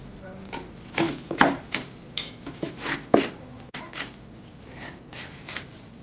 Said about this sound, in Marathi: तर हा मी चिरून घेणार आहे